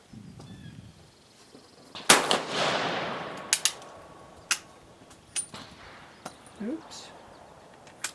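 A single sharp gunshot from a .43 Spanish smokeless load firing a Lyman 439186 cast bullet cracks out nearby and trails off in a long echo, followed by scattered small clicks and knocks.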